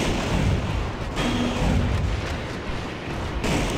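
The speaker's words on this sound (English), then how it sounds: "Missiles are coming." Missiles blasting in the Metal Wolf Chaos XD video game, a dense, continuous rumble of explosions filling the whole stretch at high loudness, with no voices.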